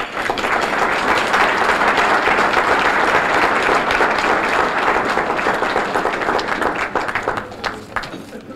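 A town-hall audience gives a long, loud round of applause after a State of the Town address in North Haven, dense clapping sustained for several seconds before tapering off, with a voice faintly beneath it.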